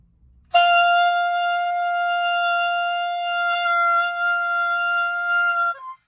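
A single sustained oboe tone played with a bitten embouchure, thin and buzzy with strong upper harmonics, held steadily for about five seconds before cutting off.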